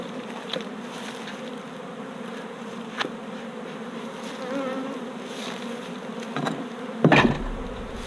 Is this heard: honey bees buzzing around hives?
yes